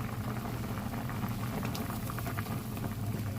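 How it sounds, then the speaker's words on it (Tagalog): Crab simmers in coconut milk in a pot, a soft steady bubbling and gurgling at close range with no voices. "Ayan, kumulo na."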